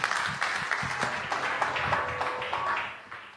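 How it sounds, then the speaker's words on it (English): Audience at a conference talk on the Starchild Skull gives a round of applause, a dense wash of many hands clapping steadily in a hall, fading slightly toward the end. "Give him a big round of applause."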